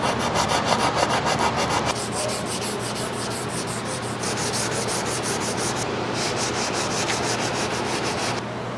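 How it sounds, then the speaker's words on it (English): Hand block sanding smooths car body paint, with continuous close, loud rasping strokes that keep a steady back-and-forth rhythm and change texture slightly partway through. "We then are going to use our blocks to get into the hard to reach areas and start to block it smooth and nice and flat"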